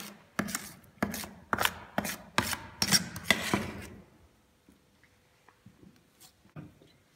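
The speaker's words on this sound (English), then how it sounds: "Keep mixing with the spatula." A spatula mixes a putty-like soil sample for a liquid limit test. About seven loud, evenly spaced rasping scrapes come first, then a run of faint, scattered scrapes and taps.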